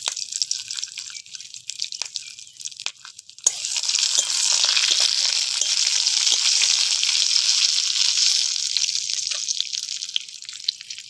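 Raisins, bay leaves and whole garam masala fry in hot oil for kanika bhog, bursting into a loud, continuous bright sizzle after a few seconds of quieter crackling and dripping.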